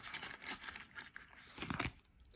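Coins being counted by hand: a quick run of faint metallic clinks and taps in irregular bursts, close but quiet, with no voices.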